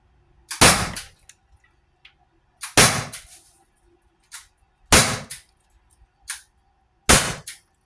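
An HDR TR50 CO2 pistol fires .43 caliber steel-core rounds at a target about 15 feet away, giving four sharp, loud cracks spaced roughly two seconds apart with faint impact ticks between, and no talking.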